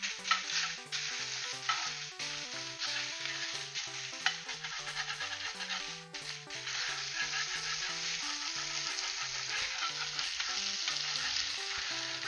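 Rice fries in a pan while a utensil scrapes stuck bits off the bottom, a dense steady sizzle under repeated scraping strokes, close, with light music playing throughout.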